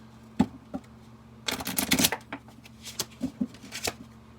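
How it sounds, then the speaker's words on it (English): A deck of cards is riffled in a quick rustling burst, followed by a series of soft taps and flicks as the cards are squared and shuffled again. "Give you guys a good shuffle."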